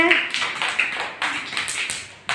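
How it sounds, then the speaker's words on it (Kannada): Schoolchildren clapping for a classmate in a classroom: loose, uneven bursts of small hands tapping and clapping, with a voice heard briefly. "ಚಪ್ಪಾಳೆ ಹಾಕ್ರಿ ಎಲ್ಲರೂ"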